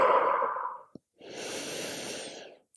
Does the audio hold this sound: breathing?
yes